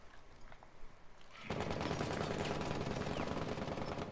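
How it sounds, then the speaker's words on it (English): Rapid automatic gunfire erupts suddenly and keeps going as a dense, loud barrage in an online multiplayer shooter match, after a quieter opening stretch. "Is that someone shooting at you?"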